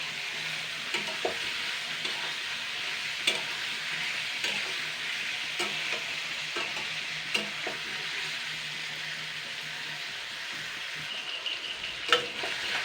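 Meat frying in a pan for a chui jhal meat curry, with a steady, moderate sizzle under repeated scraping clicks of stirring spaced every second or so, with no voices.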